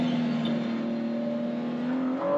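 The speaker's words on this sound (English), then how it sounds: "He said he wanted me to rev it." A supercharged 2021 Ford F-150 pickup engine held at a steady, loud rev with a sustained droning tone and a slight lift near the end, heard alone and close.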